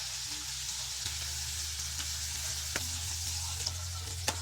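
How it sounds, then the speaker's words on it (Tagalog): Chicken wings for buffalo wings fry in oil during a second fry, giving a continuous, fairly quiet crackling sizzle with a low hum underneath and a few sharp pops. "Ngayon mag-second fry na tayo."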